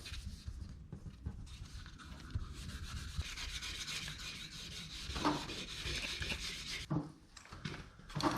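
Dual-action sander wet sanding the paint of a Copart auction rebuild PT Cruiser with fine 3000-grit paper, giving a steady close whirring rub that continues without pause, with slight swells in intensity.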